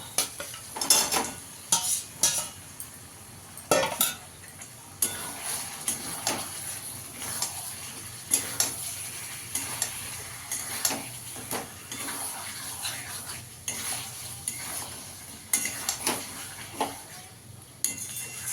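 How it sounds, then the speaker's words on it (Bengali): Fried chicken pieces go into thick cooked-down masala for masala chicken, giving irregular clatters of a spoon against the pot with soft wet stirring, close and moderately loud, over a faint steady background hiss. "দেখুন এবার আমি ভেজে রাখা চিকেনটা দিয়ে দেবো"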